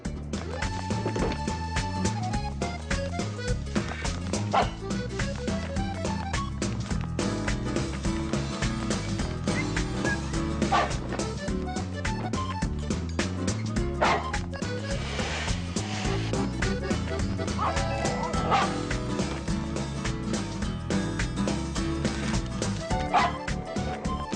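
A dog named in a daycare errand barks and yips repeatedly over a dense, continuous bed of music that stays loud throughout, the yaps rising sharply above it in quick bursts.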